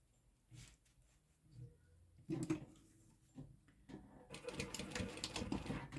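A sewing machine top stitching a fabric sling runs in short, faint bursts, then settles into a steadier, louder whirring run near the end.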